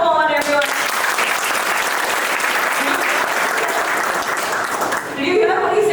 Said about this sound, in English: clap for Mohan everyone